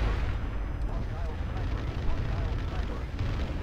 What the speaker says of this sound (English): Incoming orbital strike at your position